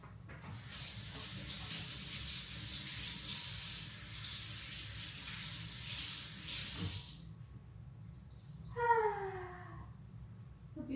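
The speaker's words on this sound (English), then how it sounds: "Let me wash my hands" A kitchen tap runs steadily as hands are washed under the stream for several seconds, then the water shuts off, leaving quiet room sound and a few brief clinks.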